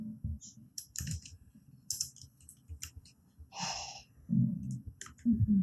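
Sparse clicks and short bursts of typing on a computer keyboard while a paragraph is entered, coming in scattered clusters with pauses and soft breathing between them, close and fairly quiet.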